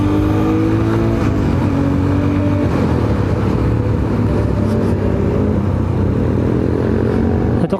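Motorcycle engine accelerating on the throttle during a road ride, a loud, continuous, close-up drone with rising engine pitch under heavy wind noise.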